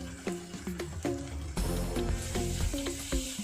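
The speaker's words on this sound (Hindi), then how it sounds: "इसमें ऐड कर रहा हूँ कटा हुआ टमाटर और ग्रीन चिली" Chopped tomato and green chili sizzle in a hot pan while being stirred for a Bengali kosha chicken, giving a close, continuous crackling fry with light scraping.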